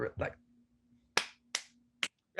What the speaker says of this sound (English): Oh, clap.